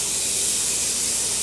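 Water poured onto frozen chopped leaves while cooking gives a loud, continuous steamy hiss and spray that holds even and unbroken from start to finish, with no talking.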